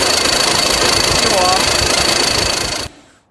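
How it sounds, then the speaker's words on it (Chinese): A car air conditioning compressor with a fault makes a loud, steady mechanical drone with a rapid knocking rattle and a whining tone, running continuously for about three seconds before cutting off abruptly. "这是压缩机故障"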